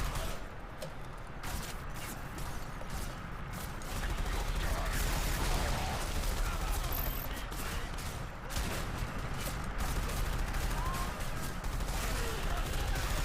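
Rapid gunfire crackles almost without pause through a SiN Episodes: Emergence firefight, with machine gunners' bursts layered over dense, loud mechanical clatter and explosive noise.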